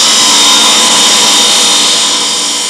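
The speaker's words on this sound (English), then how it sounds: "the tiles are cut to length with diamond-tipped circular saws" Diamond-tipped circular saws cut stone tiles in an industrial shop, giving a loud, steady high-pitched grinding whine that holds without a break.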